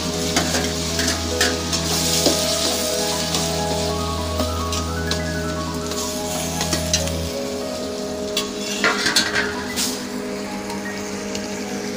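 Tomatoes sauté in a pan with a steady, close sizzle and crackle like rain on a surface, stirred occasionally, while a low hum runs underneath and then drops away partway through.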